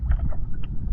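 A boat engine hums as a low, steady rumble close by, mixed with gusty wind noise on the microphone, brief and without talking.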